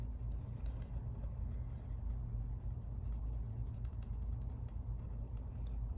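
Pencil lead rubbing steadily on paper while filling an area with solid black shading, a continuous close scratchy texture with no talking.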